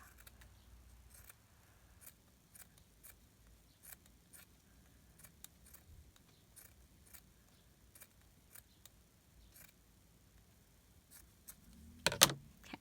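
Scissors snip through a piece of lace for a junk journal in a quiet room, with soft repeated clicks of the blades about once a second and a louder rustle near the end.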